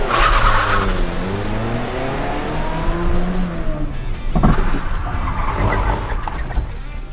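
A car slides sideways in a handbrake drift, tires squealing in a long wavering skid over a running engine, loud and close, with a rougher scrub toward the end.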